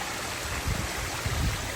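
Backyard pond waterfall spilling over rocks and boulders, a steady close wash of flowing water with soft gurgling surges, alone and with no voices.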